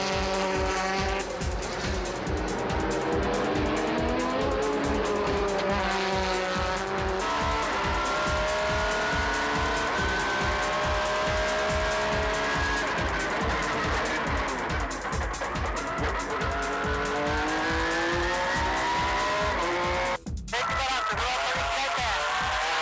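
A race car lapping the Fuji circuit, its engine roaring loud and close with constantly rising and falling revs through gear changes, plus a brief sharp dip near the end.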